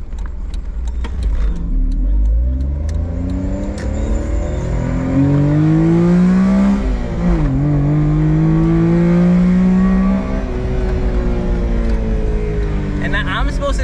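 A Honda Beat car accelerates hard through the gears, its small engine rising in pitch, dropping at a shift, then climbing again loudly from inside the cabin under steady road noise.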